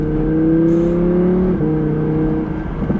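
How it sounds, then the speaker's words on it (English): A naturally aspirated 5.2-litre V10 in an Audi R8 V10 Plus revs loudly and close, a steady rising howl that holds for about a second and a half, then drops back to a lower, rougher idle-like rumble. "The sound of this car, that V10"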